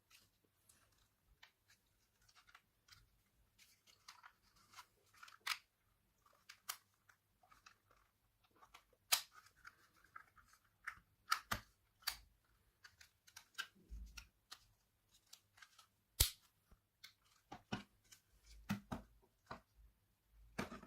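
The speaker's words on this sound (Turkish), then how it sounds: "Maket bıçağının bu arada ters tarafını kullanıyorum." Plastic TV remote casing pried open with the back edge of a utility knife, a series of small sharp clicks and scrapes in irregular bursts, close and quiet.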